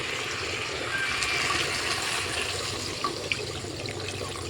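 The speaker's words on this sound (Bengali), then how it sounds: "এরকমভাবে জলটা দিয়ে দিচ্ছি দেখো" Water poured into a pot of browned meat and potatoes makes a steady, close splashing and trickling wash that runs without a break, with no talking over it.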